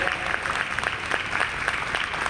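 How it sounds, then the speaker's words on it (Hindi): A large audience at a Maha Shivratri event at NESCO in Mumbai gives steady, loud applause. It is an even, continuous crowd clapping with occasional sharper claps standing out. "एक बार जोरदार तालियों से अभिनंदन कीजिएगा"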